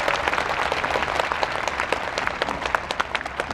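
An audience at a Korean National Assembly audit hearing breaks into a brief round of dense applause, many hands clapping steadily and moderately loud for a few seconds.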